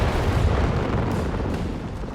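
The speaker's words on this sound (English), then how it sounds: "It's the officers' artillery coming in there" Artillery rounds land in a Company of Heroes 3 battle, heard as a steady low rumbling roar of distant explosions that slowly fades, with no distinct separate blasts.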